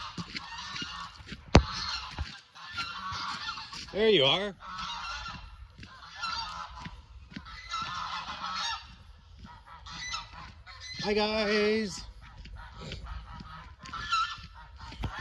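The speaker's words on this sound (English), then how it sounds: "I'm gonna let my geese out." Geese being let out of their coop after rain honk in several loud, wavering bursts separated by quieter chatter, while a person briefly greets them.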